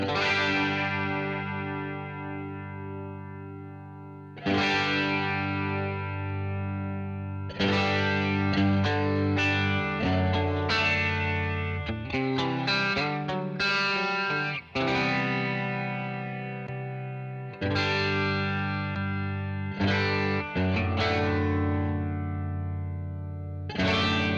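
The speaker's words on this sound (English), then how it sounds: "you're getting this comb effect, this comb flange going on through zero flanging" A distorted electric guitar plays sustained chords and quick strummed runs through a sweeping, comb-like through-zero flanging effect pedal, loud and alone.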